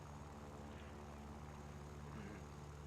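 A Yak-1B propeller fighter's engine in War Thunder, running at reduced power while its water overheats: a faint, steady droning hum that holds level throughout, with no voices.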